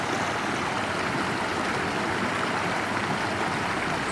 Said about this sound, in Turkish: Burada küçük şelalelerimiz var.